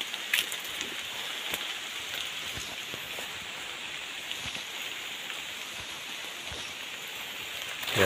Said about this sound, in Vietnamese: Thôi đi về thôi, trời mưa rồi.